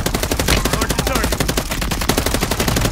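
Heavy automatic gunfire in the shooter Modern Warfare III, a loud, sustained rattle of rapid shots with bursts overlapping for the whole stretch, and no talking over it.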